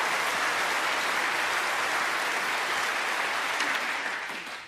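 A snooker crowd at the Masters final applauds a century break, dense sustained clapping that fills the hall at full strength, then begins to fade in the last second.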